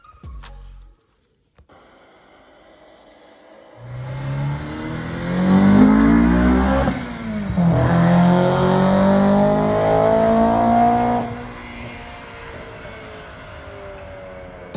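A car engine idles briefly, then revs up in a rising roar, drops back and climbs again before settling to a steady, loud run close by, with no talking.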